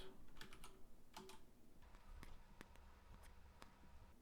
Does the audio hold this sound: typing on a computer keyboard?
yes